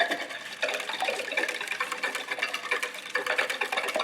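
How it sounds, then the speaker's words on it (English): Eggs beaten vigorously by hand in a bowl for a chocolate brownie batter, a fast continuous rapid clatter of whisk against the bowl sides that runs steadily throughout, moderately close with no talking. "Beat these pretty vigorously to make sure that the chocolate's going to be well incorporated."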